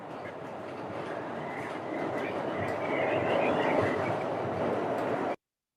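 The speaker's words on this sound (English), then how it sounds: "we've been riding the J train" J train on the New York City subway rolling along, a steady loud rumble of wheels and car noise that swells slightly midway, with no talking.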